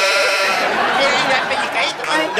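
A voice imitates a mountain goat's bleat in a comedy sketch about a plainsman and his son, a loud, wavering, nasal bleating cry held for a couple of seconds.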